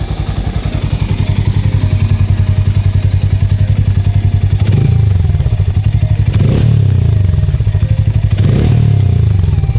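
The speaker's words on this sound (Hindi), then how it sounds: "एंड अभी क्या करते हैं, थोड़ा सा रेव करते हैं।" Loud and near, a Hero Mavrick 440 cruiser motorcycle idles with a rapid, even exhaust thump, then three short blips of the throttle each swell into a brief roar before dropping back to idle.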